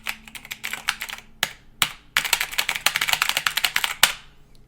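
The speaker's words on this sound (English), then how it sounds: "When I click the keys, they sound like this." Keys on a Razer BlackWidow Ultimate Edition mechanical keyboard clack in rapid bursts of sharp, close clicks, with brief pauses between runs and no talking.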